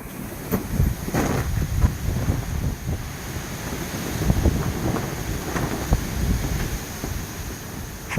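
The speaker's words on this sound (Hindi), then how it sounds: "हवा का दबाव बढ़ चुका है और आंधी और तेज़ हो चुकी है।" Strong windstorm battering a rooftop shed with a fallen overhead sail-cloth cover, a steady loud roar of wind buffeting the microphone with gusty rushes and rattling throughout.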